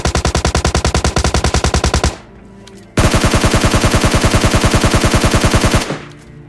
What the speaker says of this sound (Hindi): तो मैं उसे फायरिंग देता हूँ, डैमेज भी करता हूँ